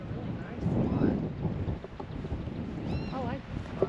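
Wind blowing outdoors in a desert spot with mesquite trees and cactus, buffeting the microphone in low gusts, with people talking over it and faint birdsong in the background.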